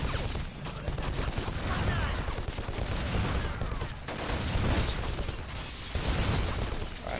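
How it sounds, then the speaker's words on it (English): Sustained rattling gunfire aimed at the player in the shooter game Black, on a Veblensk City street; continuous dense bursts with brief lulls around the second and fifth seconds. "who's shooting me in the back?"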